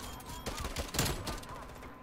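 Rapid bursts of TEC-9 semi-automatic SMG fire in the video game Warzone. The shots run as a dense, loud cluster through the short stretch, with faint talk underneath.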